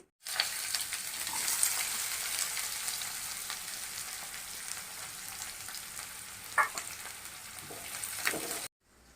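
Thinly sliced medium onion dropped into hot oil, breaking into a loud, bright sizzle that holds steady with a brief crackling flare near the end before cutting off.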